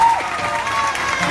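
Studio audience clapping on a Pakistani game show, a dense, steady wash of applause from a crowd, close and fairly loud for its whole short length.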